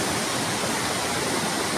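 A river flows in a steady, close rushing wash of water with no break, heard outdoors on a fishing outing with no voices over it.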